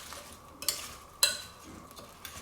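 Potatoes being stirred together with rosemary, olive oil and onions in a bowl, giving a few soft scraping, tossing sounds in short bursts over a quiet background.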